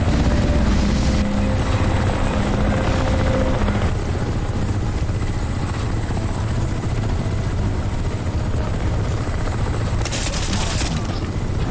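A helicopter in the video game Crysis Remastered drones loudly and continuously, with bursts of gunfire and booms mixed in.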